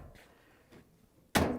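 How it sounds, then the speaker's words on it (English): A Samsung dryer door swings shut with one sharp, close thump near the end, after a few quiet soft knocks. "close the door"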